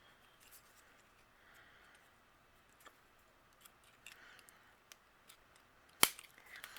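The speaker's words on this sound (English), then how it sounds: "I'm going to take my scissors and just trim off the back of the brads that are overhanging" Faint, scattered little snips of scissors trimming overhanging brad prongs on a handmade card, ending in one sharp, louder clip.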